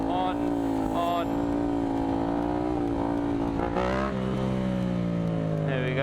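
A motorcycle engine revs and eases off in uneven pulses while the rider holds a wheelie, feathering the throttle and foot brake. The engine note rises and dips near the mic, mixed with wind noise, with no talking.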